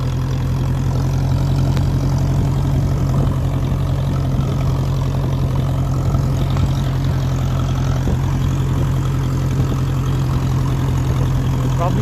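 A 1957 Ferguson 35 tractor running on TVO with a tightened exhaust idles steadily and close by, giving a continuous low rumble with no pause for the whole stretch.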